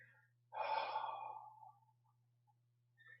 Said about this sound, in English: And then from here you breathe out